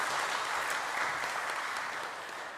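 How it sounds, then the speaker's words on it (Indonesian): Applause from an audience at a church inauguration ceremony in Jakarta, honoring the workers: a steady, dense wash of many hands clapping that runs throughout, tapering slightly toward the end. "Tepuk tangan bagi semua yang bekerja di tempat ini"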